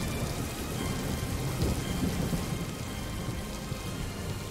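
Heavy rain with a low rumble of thunder in the Crusader Kings 3 Game of Thrones mod, a dense continuous wash that swells briefly near the middle, with no talking.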